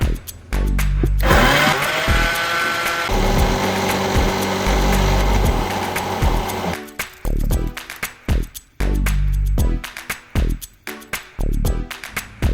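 A loud electric blender whirs steadily for several seconds while blending kimchi paste ingredients with mirin, then stops and restarts in short bursts with brief pauses between.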